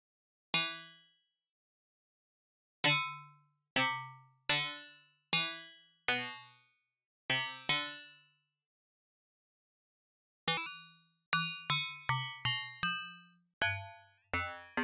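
Sitar-like FM synth patch on Ableton Operator, played as separate plucked notes with sharp attacks and ringing decays, slow single notes first, then a quicker run of overlapping tones, clean and alone.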